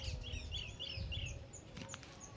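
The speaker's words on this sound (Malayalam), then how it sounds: "ചെറിയ കിളികളെ സൗണ്ടൊക്കെ കേൾക്കാം" Small birds chirp in quick, high, thin notes, a short run of tweets followed by a few scattered calls, faint against a low outdoor rumble.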